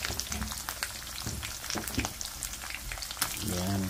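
Dried milkfish, bangus daing, fries in a pan with a dense crackling sizzle of popping oil and a faint voice near the end.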